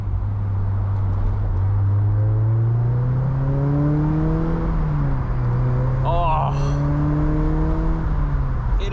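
A Mazda Miata NC drives along with its top down, steady engine drone rising and falling in pitch through gear changes, wind rush throughout, with a person's voice speaking briefly over it.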